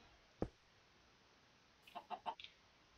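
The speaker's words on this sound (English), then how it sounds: "Oh, Mr. Chicken." Chicken clucking in the factory-building game Industrial Automation: a sharp isolated click, then a quick run of three or four soft, rising clucks close by, with no talk.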